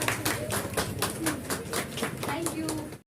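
Steady applause from an audience at a Teej function, dense rhythmic clapping sustained for a few seconds before cutting off abruptly, with crowd noise underneath.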